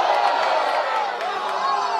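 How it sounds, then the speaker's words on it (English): A crowd at a men's college soccer match between FIU and Marshall cheers with a steady roar and a few whoops, heard at a distance under a commentator's voice. "To the delight of the crowd."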